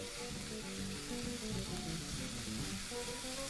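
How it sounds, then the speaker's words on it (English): Minced meat sizzles steadily in a hot frying pan, browning with a dense, constant crackle and hiss close up, with no voices over it. "always start off with my mincemeat, because I like to give that a nice brown"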